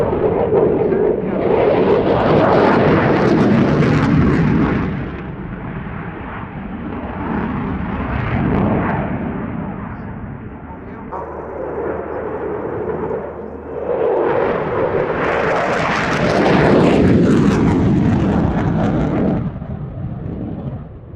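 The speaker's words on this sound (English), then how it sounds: "he'll now be throttling back the two EJ200 engines to idle, bringing that speed down to somewhere in the region of 120 knots" A fighter jet with two EJ200 engines performs at an RAF Cosford air show display, its loud, sustained roar swelling and fading as it passes, then surging again into a bright, tearing blast near the end.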